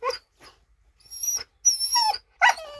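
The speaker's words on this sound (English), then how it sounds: "This is what I wake up to every morning. Puppy fights." Puppies squabbling up close, a burst of high yips, whines and short barks broken by brief pauses.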